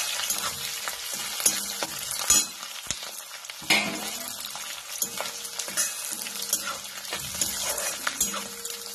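Chopped capsicum fries in a hot pan as it is stirred, a continuous close sizzle broken by scraping strokes and light clinks of the spoon against the pan.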